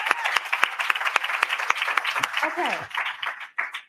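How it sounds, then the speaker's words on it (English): Audience clapping for President Abdullah at an HBCU panel event, a dense burst of hand claps that carries steadily through the clip and fades near the end, with people talking over it. "Let's clap for President Abdullah"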